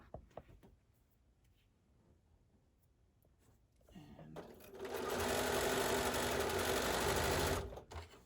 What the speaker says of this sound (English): I'm just going to stitch the first 2 pieces together